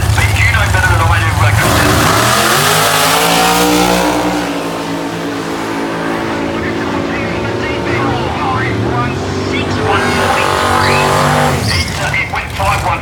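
A drag race car with a 570 cubic inch two-stage engine roars loudly at a radial tire event, its engine note rising and falling over about ten seconds, with a commentator talking over it.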